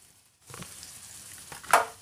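Ground onion and tomato paste frying in a pan for a Gujarati mutton dal, a soft sizzle with faint stirring scrapes and one brief louder spatter near the end.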